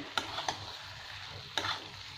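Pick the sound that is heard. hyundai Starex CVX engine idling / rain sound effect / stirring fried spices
stirring fried spices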